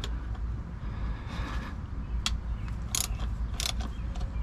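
Ratchet and socket work loosens the 5/16 throttle body bolts on a Ford Crown Victoria engine, close-up metallic clicks and short ratcheting bursts with pauses in between, no talking.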